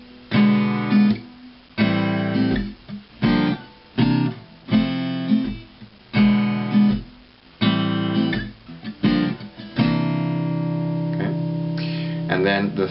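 An acoustic guitar strums a chord progression that includes a C ninth chord, in a steady rhythm of distinct strummed chords, each ringing briefly before the next, close and clear with no talking.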